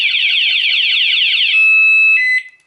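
A loud Honda CBR 150 motorcycle anti-theft alarm warbling in fast repeating sweeps, then switching to a steady high tone and a few beeps before cutting off.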